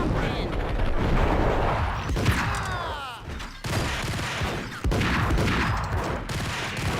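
Gunfire in the Max Payne game: dense bursts of shots and booms crackle throughout, with sweeping whizzing effects midway and voices talking over the shooting.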